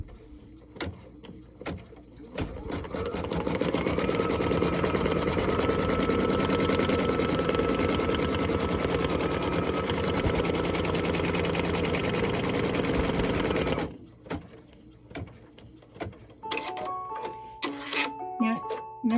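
A sewing machine stitches a tack-down line on a mitten in a loud, continuous whirring run of about eleven seconds, with a voice speaking before and after and a few light clicks at the end.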